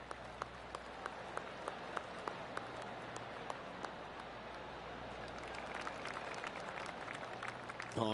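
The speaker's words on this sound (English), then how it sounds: "Oh, golf clap." Steady polite golf clap from a video game gallery, a soft continuous patter of many hands clapping at a distance with sharper scattered claps throughout.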